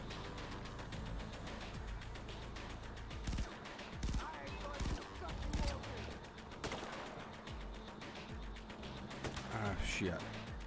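Sustained enemy gunfire in the Far Cry 4 video game, bursts of shots and automatic fire crackling continuously through the clip with louder peaks, under a player's voice.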